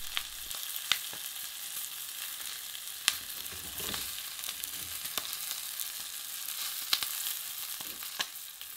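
Duck breast fries skin-side down in a pan, slowly rendering its fat, with a steady close sizzle broken by scattered sharp pops and crackles.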